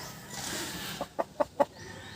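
Three or four short clucking calls from a chicken sick with fowl cholera, in quick succession, moderately close, over a steady background hiss.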